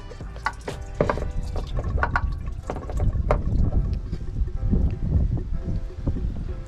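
Fluid draining out of a BMW 3 Series E9x heater system and running down a driveway toward the wheel well, a steady watery trickle and splash with scattered clinks and handling noises close by, no talk.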